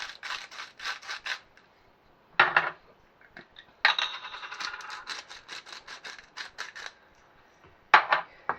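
Chickpea filling for stuffed butternut squash, seasoned with salt and pepper, mixed in a bowl with a spoon: bursts of scraping and rubbing, close and fairly loud, separated by short pauses.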